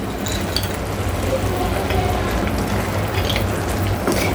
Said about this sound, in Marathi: भाजलेले ड्रायफ्रूट्स आपण आता ह्याच्यामध्ये टाकून घेणार आहोत